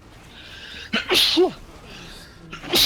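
A single loud, sharp human sneeze bursts out near the microphone mid-clip, with the start of a second sneeze-like burst at the end, over quiet room tone during a League of Legends game session.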